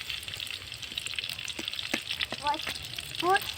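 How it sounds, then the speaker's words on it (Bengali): Chira langcha, a flattened-rice sweet, being slipped one at a time into lightly heated oil, giving a continuous close sizzle with a few small clicks and crackles. "আমি ল্যাংচাগুলো একটা একটা করে তেলে দিয়ে দেবো"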